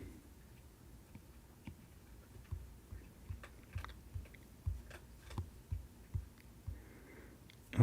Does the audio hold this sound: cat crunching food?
yes